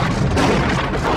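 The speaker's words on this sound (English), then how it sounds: "there's the Cobra assault cannon, which goes boom, and then there's no more anything." A Cobra assault cannon fires a single massive boom that fills the whole moment with a loud, sustained, rumbling blast, close and overpowering, with no speech.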